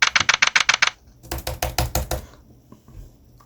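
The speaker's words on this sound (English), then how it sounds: "Can you hear me typing?" Rapid keyboard typing in two quick bursts of sharp clicks, close and crisp, followed by a short pause with a few stray taps.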